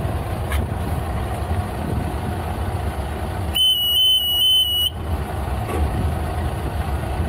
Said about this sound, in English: Let's power up the machine.